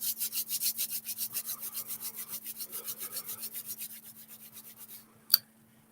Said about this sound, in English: Rub your hands together.